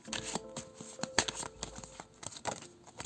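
A deck of tarot cards is shuffled by hand at close range, crisp rapid riffling bursts and soft taps repeating unevenly with brief pauses between.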